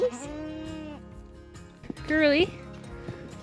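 A farm goat in winter snow lets out a wavering bleat up close, with a person talking around it.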